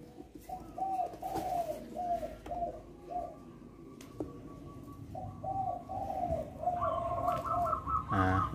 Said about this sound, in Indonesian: Ini dia burungnya sudah di packing. Cek dulu burungnya di dalam.